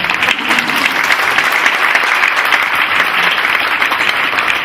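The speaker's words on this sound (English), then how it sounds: "You can clap." Audience applause at a student award ceremony, loud, steady and sustained clapping from a crowd filling the room, with no talking over it.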